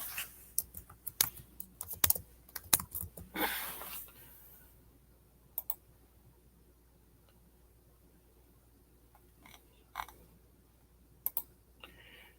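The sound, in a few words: typing on a computer keyboard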